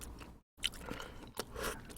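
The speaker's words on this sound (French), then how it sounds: "Ah ça va être le moment crucial de croquer là-dedans. Les petites frites." Crunchy french fries being bitten and chewed close up, with a few crisp crunching bursts separated by a brief silence.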